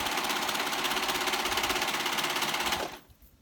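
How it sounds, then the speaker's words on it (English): A sewing machine runs steadily, stitching basted pieces of a hooded snuggle blanket together. The close, even mechanical whir hums for nearly three seconds and then stops abruptly, leaving near silence. "the parts that we basted on are now being sewn together"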